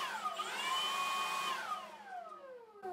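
A Milwaukee M18 leaf blower fitted with a 3D-printed nozzle whines up to a steady high-pitched whir, then winds down as the motor slows and stops, heard close with no talking.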